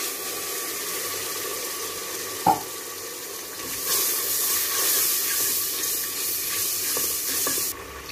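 Masala of garam masala, salt and turmeric hisses in a pan after water goes in, with a sharp clink, then a louder steady sizzle and bubbling for several seconds before it drops off.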